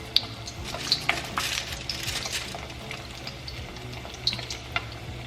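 Shrimp-stuffed crab cake poppers dropped into hot oil and frying in a pan, a steady crackling sizzle with sharp pops and spatters throughout, close and fairly loud with no talking.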